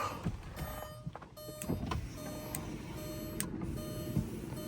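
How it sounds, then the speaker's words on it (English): The power window of a 1991 Audi 20V Avant runs up and down, a whirring electric motor with clicks and thumps at the stops, heard close in a quiet setting. "window goes up and down like it's supposed to"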